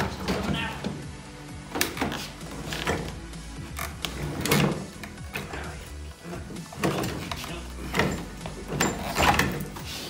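Door of a Toyota MR2 being removed, with clunks, knocks and metallic scraping at close range over a low background hum, irregular and fairly loud.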